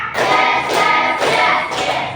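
Schoolchildren in a fourth-grade class clap in unison in bursts of a tepuk semangat spirit-clapping chant, loud and close, with several regular rounds of claps.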